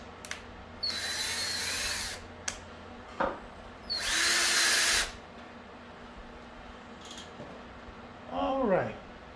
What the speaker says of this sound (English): I'm drilling lefty